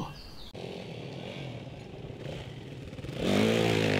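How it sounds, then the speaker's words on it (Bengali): A motorcycle engine hums steadily, then revs louder and rises in pitch as it pulls away near the end. "ওরা দুজন বাইকে করে বেরিয়ে পড়ল।"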